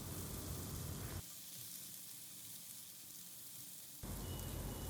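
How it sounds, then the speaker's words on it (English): Zucchini and mushrooms sauté in butter and garlic over a medium flame, giving a soft, steady sizzle that dips quieter for a few seconds and then swells back up. "On medium flame we will saute the zucchinis for 1 to 2 minutes along with the mushrooms so that they can absorb the flavors of butter garlic"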